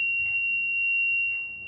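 A buzzer on an IoT smart medicine reminder sounds a steady, loud electronic tone without a break, signalling a missed dose. No voices are present.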